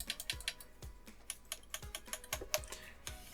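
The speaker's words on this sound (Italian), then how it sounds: "Vi faccio vedere e sentire il click." Crisp plastic clicks from the front RGB push buttons on an Acelith GT Phenom Pro sim-racing steering wheel with an aluminium core, about a dozen sharp presses at an irregular pace, close and isolated with no talking.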